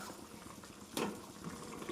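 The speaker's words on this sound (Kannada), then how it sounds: "ಇವಾಗ ನೋಡಿ ಎಷ್ಟು ಚೆನ್ನಾಗಿ ಕುದೀತಾ ಇದೆ." Tamarind gojju (hunasehannu thokku) bubbling in a pot, a soft steady simmer of thick sauce with one louder pop of bubbling midway, heard close and alone.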